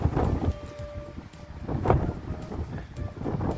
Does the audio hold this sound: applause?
no